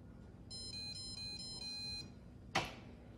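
A Pampered Chef multi cooker heating up for sous vide gives off a short burst of soft, rapid electronic beeps, followed by a single brief click or knock, all faint against a quiet room hum.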